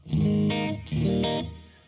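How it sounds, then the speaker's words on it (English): Electric guitar played through a Carl Martin Andy Timmons compressor pedal, with spring reverb from a Fender amplifier on one side: two sustained, distorted chord swells, each ringing out and slowly decaying, close and loud. "the reverb you're hearing is the reverb from the Fender, so it's just on one side"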